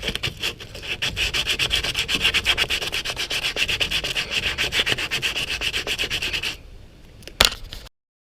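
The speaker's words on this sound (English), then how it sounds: "I've got some 220 grit sandpaper here that I'm going to go ahead and start smoothing it out a bit" 220 grit sandpaper rubbed by hand over a rust-repaired cab corner on a Ford F150 pickup: steady rapid back-and-forth scratching strokes for several seconds, then a brief pause and a couple of lighter scrapes.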